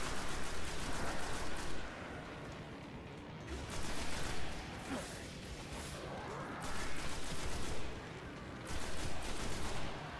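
A burst-firing gun in the Destiny shooter game lets off repeated loud clusters of rapid shots, each lasting about two seconds and separated by brief quieter gaps, with no speech.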